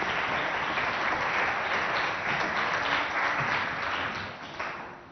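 Sustained audience applause filling an amphitheatre at an institute in Abéché, steady and dense throughout before easing slightly near the end, with no talk over it.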